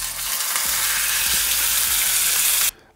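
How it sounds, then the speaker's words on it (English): Meat searing in hot oil in a skillet for a crockpot Mississippi pot roast, a loud, steady close sizzle with faint stirring scrapes, cutting off abruptly near the end. "Now, we're going to get ready to go ahead and sear our meat."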